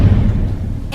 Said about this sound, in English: As the door slammed shut